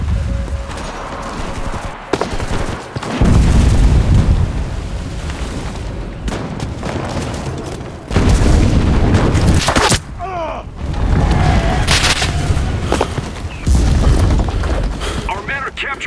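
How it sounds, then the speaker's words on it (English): Artillery fire and explosions in the WWII shooter Enlisted, Pacific Solomon Islands battle: repeated loud, deep booms and blasts land in bursts across the stretch amid continuous battle rumble, with voices calling out between impacts. "Artillery! Fire at the square!"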